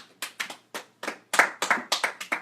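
A few people in an audience clap together in a loose, uneven rhythm, about a dozen sharp close claps in quick succession, with no talk over them.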